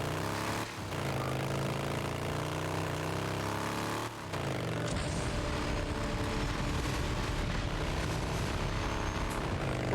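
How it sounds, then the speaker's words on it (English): An upgraded motorcycle engine in the game Days Gone roars loud and close, holding a steady droning tone with rising and falling harmonic sweeps as the bike revs, briefly dips near four seconds, then surges back into a rougher, grittier full-throttle growl. "that thing sounds like a jet engine"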